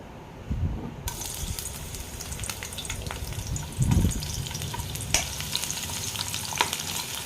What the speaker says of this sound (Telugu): ఫస్ట్ అయితే నేను ఆనియన్స్ వేస్తున్నాను.